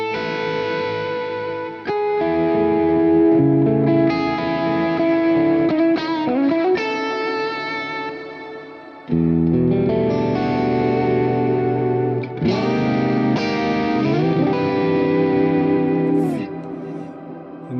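Electric guitar through a Quad Cortex preset with reverb, sustained distorted chords and melodic phrases ringing out with lush echo tails, loud and close, with brief breaks between phrases.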